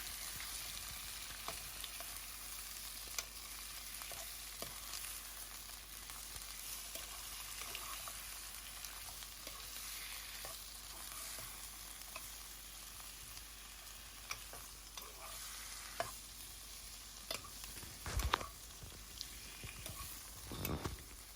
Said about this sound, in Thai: เอาปลาหมึกลงไปผัดให้เข้ากันค่ะ